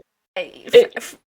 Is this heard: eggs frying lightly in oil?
no